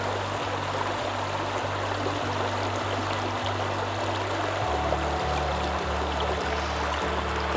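A woodland brook flows steadily in a wide, continuous wash of water noise. A low, pulsing mechanical hum with a regular beat runs underneath throughout, and no one speaks.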